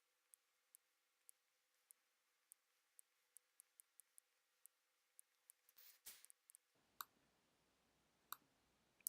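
Computer mouse clicks during a Photoshop editing session, a series of faint, sharp single and double clicks spaced irregularly, recorded close up in an otherwise quiet room.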